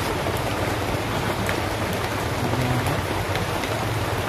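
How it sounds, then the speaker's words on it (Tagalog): Heavy rain pours down in a dense, constant hiss with no break. It sounds close and loud, and no voices are heard. "Malakas na yung ulan?"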